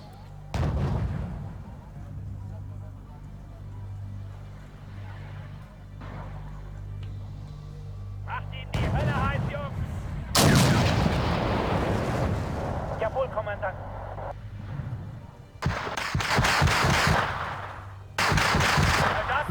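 Artillery fire in the Wargame European Escalation video game: heavy booming blasts and rumbling bursts come in clusters, loud and close, with a steady low engine drone and someone talking over parts of it.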